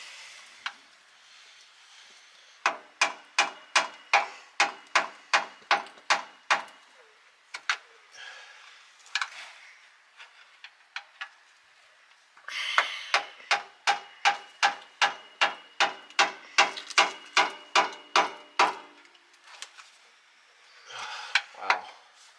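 Hammer strikes on the axle of a Chevy Express van with an open differential, ringing metallic blows in two long rapid bursts of evenly spaced hits, loud and close, with brief pauses between.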